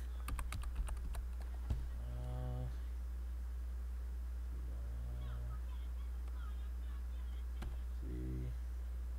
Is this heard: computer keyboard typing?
yes